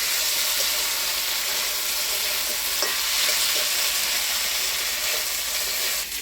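Boiled potatoes and chickpeas sauté together in a hot pan, filling the space with a loud, continuous sizzle and hiss and a few soft scrapes of stirring.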